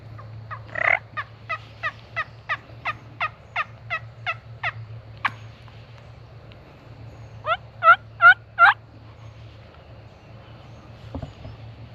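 A wild turkey in a Georgia field gobbles in a rapid rattling series, then a second short burst of gobbles, over a low steady hum outdoors.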